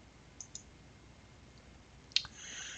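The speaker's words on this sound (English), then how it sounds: "And then you want to click schedule." A computer mouse clicks a few times while an email marketing campaign is scheduled: two faint light clicks, then a sharper single click after a pause, over a quiet background hiss.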